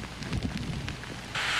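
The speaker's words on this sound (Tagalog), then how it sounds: "Bandang alauna ng hapon, lalo pang lumakas ang hangin at ulan." Strong wind and heavy rain lash a storm-hit coastal area in Baseco, a steady broad roar throughout that swells sharply louder near the end.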